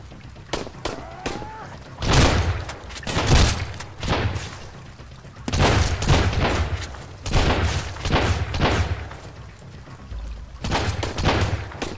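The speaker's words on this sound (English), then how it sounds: "Since I don't know who is shooting." Gunfire in the Sunkenland survival game, with repeated bursts of loud shots and booms coming in several clusters, some near and some further off.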